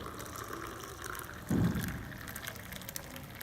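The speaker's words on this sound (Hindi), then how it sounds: "ये कॉफ़ी तैयार है। इसको आप कप में डालें।" Bulletproof keto coffee is poured into a cup in one short liquid gush, a brief splash rising and falling in the middle against quiet background noise, with no voices.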